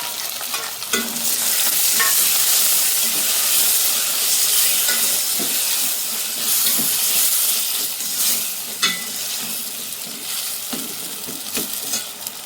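Tomato with ginger-garlic paste, turmeric and chilli powder frying in a pan, a steady loud hiss and sizzle throughout with occasional stirring clicks and scrapes, no talking.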